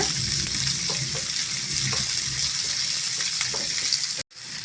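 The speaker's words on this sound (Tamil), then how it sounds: "வெங்காயம் நல்லா வதக்கி விட்டுக்கோங்க" Chopped onions sauté in a hot pan with a loud, continuous sizzle and faint scraping stirs, the sound cutting out briefly near the end.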